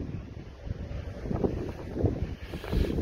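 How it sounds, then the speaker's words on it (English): Strong wind at a fishing lake in January buffets the microphone with loud, gusty low rumbling that swells and eases over a few seconds, with no voices. "it's very windy here at the moment"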